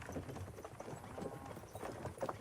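Horse hooves clip-clop at a steady walking pace in the medieval video game Kingdom Come: Deliverance II, a soft rhythmic plodding under faint background ambience.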